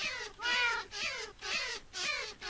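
A Minecraft cat meows five times in a regular sequence, each long, clear and fairly loud, with short gaps between them and no talk.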